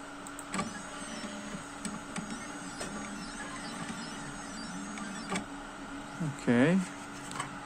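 An Endurance 1-watt 520 nm green diode laser engraver runs at speed 500 and 99% power, giving a faint, steady electrical whine punctuated by quiet periodic clicks and short motor buzzes, with a brief louder stepping sweep near the end.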